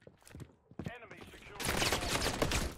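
Automatic gunfire in the video game Modern Warfare III, a dense burst of rapid shots filling the second half, preceded by scattered game effects and brief voice sounds.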